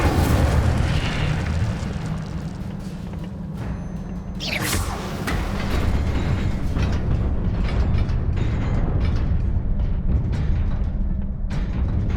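Incendio fire spell cast in Hogwarts Legacy: a sudden whooshing burst near the middle, rising then fading, over a steady rumbling, clanking mechanical game ambience with further crackling bursts afterward.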